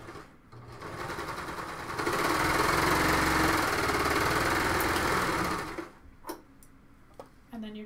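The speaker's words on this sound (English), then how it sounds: "and I'm going to serge that" A serger overlock machine stitches a shoulder seam on a cowl neck tank in one loud, steady whirring burst of about four seconds, with quieter handling noises before and after.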